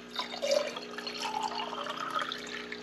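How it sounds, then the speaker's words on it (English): Water is poured into a glass onto a small measure of homemade elderflower cordial, a continuous, close splashing and trickling fill lasting a few seconds. "You can always put in more if you feel like you need more, and then top it off with water."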